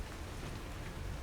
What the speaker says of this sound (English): You're not hearing anything from the roof above you except the rain hitting the tiles.